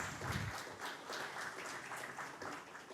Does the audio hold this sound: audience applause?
yes